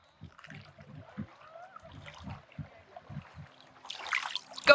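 A hand scoops water into a sample bottle while collecting a bacteria sample at a swimming spot, giving soft splashes and trickles in short bursts, ending in a brighter slosh, close and fairly quiet.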